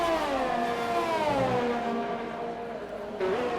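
Two McLaren Formula 1 cars racing in a video game at the Brazil circuit, engines whining and revving loud and close, pitch sliding as one follows the other, with a brief upshift near the end.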